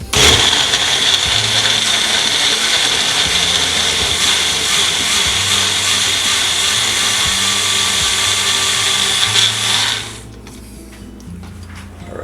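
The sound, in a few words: Magic Bullet blender blending shredded chicken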